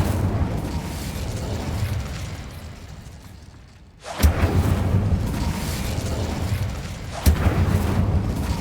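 Incendio fire spell cast in the video game Hogwarts Legacy, sounding as sudden loud blasts after a brief lull, with one strong burst then a second sharp hit a few seconds later over a dense, rumbling game backdrop.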